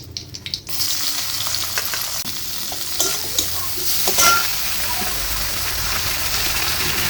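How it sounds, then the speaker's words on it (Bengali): Chopped onions and tomatoes hit hot oil with dried chilli and a bay leaf, a loud burst of sizzling that settles into steady frying with scattered clinks and scrapes of stirring and no voice. "এবার কেটে রাখা পেঁয়াজ আর টমেটোগুলো দিয়ে দেবো।"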